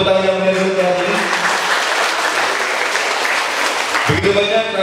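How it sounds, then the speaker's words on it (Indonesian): An audience at a children's graduation and arts performance claps loudly and continuously, with a voice speaking over the applause at the start and again near the end. "Beri tepuk tangan yang meriah untuk ini."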